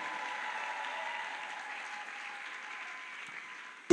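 A church congregation at a prayer-week service claps steadily to acclaim the Lord, a soft, even wash of applause heard from a distance that holds for several seconds.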